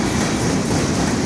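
A CSX freight train rolls past on a double-track main line, close by, with a steady, loud rumble and rhythmic clickety-clack of wheels over rail joints throughout.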